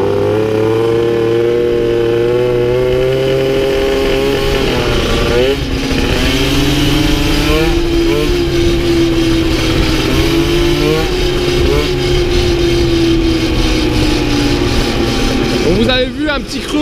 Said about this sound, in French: on accélère au début pour rien avant que ça accroche